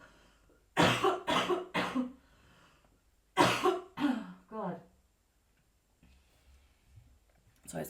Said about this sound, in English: I just need to cough again.